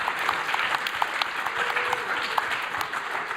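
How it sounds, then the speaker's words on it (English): An audience at a cybersecurity conference speed debate breaks into sustained applause, a thick steady clatter of many hands with occasional sharper claps standing out, and a faint voice briefly audible beneath. "Give them all a round of applause."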